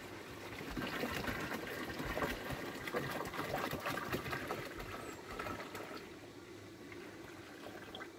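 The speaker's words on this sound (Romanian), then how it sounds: "punem și restul de apă pentru a se amesteca mai bine." Water is poured into a garden sprayer tank to mix a spray against powdery mildew on zucchini, a close rushing splash that is loud at first and then eases off.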